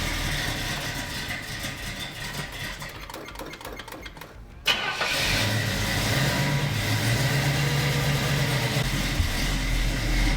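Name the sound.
1967 Pontiac Firebird engine morning cold start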